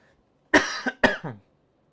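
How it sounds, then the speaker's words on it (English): Two sharp coughs in quick succession, close and loud, each trailing off into a short raspy tail, with silence before and after. "I do have a little bit of coughing today."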